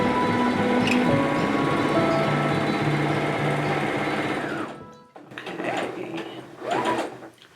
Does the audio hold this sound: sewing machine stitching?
yes